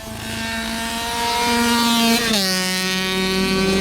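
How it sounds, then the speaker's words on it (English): A KX65 two-stroke mini dirt bike with a big bore kit, rebuilt, is ridden by a first-time rider. Its engine gives a steady, buzzy drone that rises sharply in pitch partway through as the throttle opens, with no voices. "the bike's running really good. I'm letting my buddy ride it right now"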